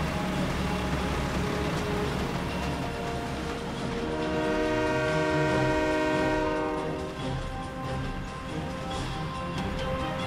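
A train rumbles past in the War Thunder video game, its wheels clattering along the rails while a loud, sustained multi-tone horn blares over the passing cars, swelling in the middle and then easing off.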